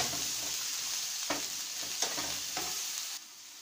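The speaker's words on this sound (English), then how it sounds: "Mixing them very well." Chopped vegetables such as kale, cauliflower and courgette being mixed for a vegetarian egg sandwich filling, with a steady hiss and a few soft stirring scrapes close up, then the hiss drops away at the end.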